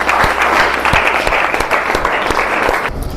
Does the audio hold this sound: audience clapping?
yes